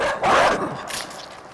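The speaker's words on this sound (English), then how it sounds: "Oh, the dog." A dog in the video game Inside gives a short burst of close barking and yipping, a couple of quick yelps over a dim background.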